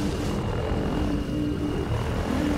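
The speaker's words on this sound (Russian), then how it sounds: "А вертолет это плохо." A helicopter in the game Half-Life 2 drones loud and steady throughout, a continuous engine and rotor roar with no pauses.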